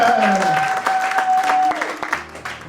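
A church congregation claps steadily and loudly throughout, with a sustained tone and voices mixed in, fading slightly near the end.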